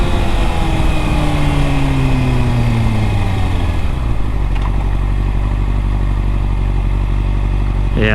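A 2009 Kawasaki ZX6R motorcycle cruises along, its engine droning steadily and loud up close, with pitch falling as it eases off and then settling into a low, even rumble with wind noise.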